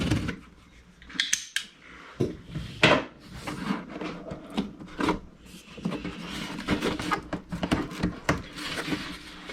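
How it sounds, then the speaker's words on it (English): A knife cuts and scrapes through the packaging of an Ascend Aeronautics ASC-2450 HD video drone, giving a series of sharp, irregular slicing and rustling bursts close to the microphone. "let me get a knife. We'll cut this open and we'll see what's inside"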